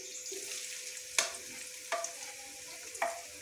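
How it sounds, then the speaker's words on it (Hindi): Onions fry in hot oil in a kadai wok, used earlier for karela, giving a steady soft sizzle broken by several sharp scraping stirs of a spatula, no voices. "अब हम लोग इसी कढ़ाई में, इसी तेल में हम लोग जो प्याज को डाल के इनको ब्राउन"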